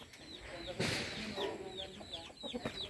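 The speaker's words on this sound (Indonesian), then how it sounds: "Gimana ayam-ayamnya semua? Nah, ini dia bangkoknya ya." Bangkok chickens cluck repeatedly nearby in short chirpy calls, with a person talking and some rustling in the background.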